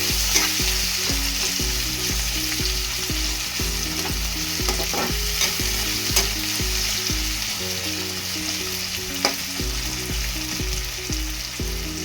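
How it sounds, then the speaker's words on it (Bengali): Onions frying and being stirred in a pan until brown for a Bengali-style onion chicken, with a steady sizzle and repeated scraping stir strokes that run close and loud throughout. "পেঁয়াজটাকে একদম ব্রাউন করে ভাজবো।"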